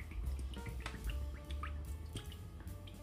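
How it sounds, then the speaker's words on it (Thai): Cooking oil pours into a frying pan, making close, soft trickling and dripping sounds with small liquid splashes over about three seconds. "ใส่น้ำมันในกระทะเลย"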